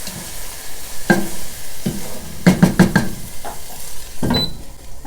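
Potatoes and vegetables stirred in a pan over low sizzling heat, a run of loud spoon knocks and scrapes against the metal at uneven intervals, close and prominent.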